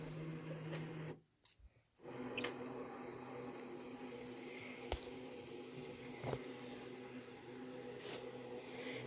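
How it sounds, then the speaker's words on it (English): A Brother Scan & Cut machine scans a sheet with a faint, steady mechanical whir, a short pause near the start, and a few soft ticks as the mechanism moves. "Right now it's going to just scan it into the machine."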